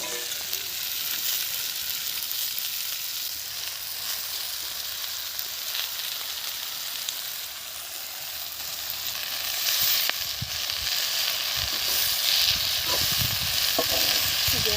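Chopped pui and telakucha greens fry in hot oil with spices for a Bengali chorchori, giving a steady, close sizzle that holds throughout and swells louder toward the end, with faint stirring clatter and no talk.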